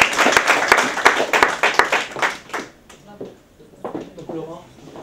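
Audience applause at a 2014 eloquence contest prize ceremony, a burst of claps that is loud for the first two and a half seconds and then fades to a few scattered claps under a speaking voice.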